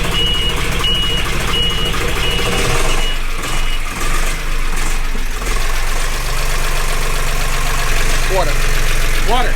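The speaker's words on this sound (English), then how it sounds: "We have an engine." A sailboat's engine runs steadily just after starting, a loud low rumbling drone with beeping alarm tones early on and people talking over it.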